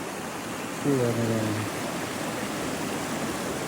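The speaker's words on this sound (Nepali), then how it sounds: "फाइनली झर्ना पनि आइपुग्यो" A waterfall in Makwanpur gives off a steady, even rush of water, with a short spoken phrase over it.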